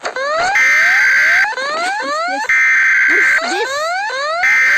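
Ecuador EAS emergency alert alarm: repeating rising electronic sweeps alternating with a steady high alert tone, loud and continuous, cycling several times with a brief spoken word early on.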